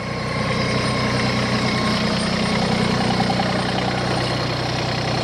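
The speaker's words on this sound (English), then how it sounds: "let's get the tractor loaded up and roll on out of there" A steady, rumbling engine idles continuously, a low heavy drone with constant vibration and no voices.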